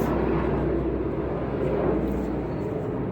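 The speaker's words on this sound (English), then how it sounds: "that's my escape helicopter coming" A helicopter flies overhead, a continuous low, broad rumble that stays steady throughout, with no clear talk over it.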